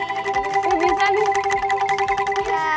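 Angklung bamboo rattles shaken in a pesantren setting, sustained tremolo tones with bright harmonic overtones, shifting pitch slightly, close and fairly loud without talk.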